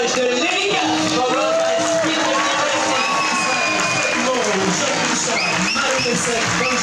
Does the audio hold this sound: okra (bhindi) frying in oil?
no